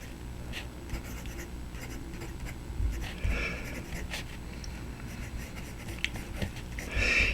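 A broad-nib Bach fountain pen in a Ranga version scratches across paper in close, faint strokes and short pauses, a soft intermittent scraping with no voice.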